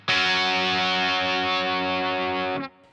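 An electric guitar played through the ML Soundlab Mikko amp plugin on its default setting strikes one heavily distorted chord that sustains loudly for over two seconds before being cut off.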